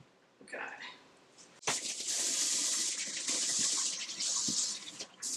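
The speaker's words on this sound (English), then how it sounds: "let's get these potatoes rinsed and chopped. We're going to rinse." Tap water gushes into a kitchen sink while potatoes are rinsed, a steady close hiss of running water after a brief bit of quieter handling, with a person speaking beforehand.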